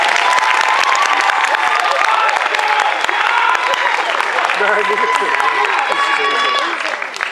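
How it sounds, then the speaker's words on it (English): A large crowd applauds and cheers loudly and steadily for a costumed cosplayer at a Sydney cosplay championship stage event, the dense clapping and whoops holding for several seconds before tapering off at the end. "Can we please have a royal round of applause for Artemis costume?"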